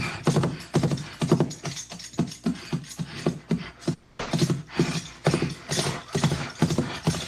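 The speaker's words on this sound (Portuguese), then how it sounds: "Ou até mesmo sons de andar a cavalo," Horse hooves clip-clopping in a steady, rapid rhythm, loud and close, with dense repeated hoof strikes throughout and no talking.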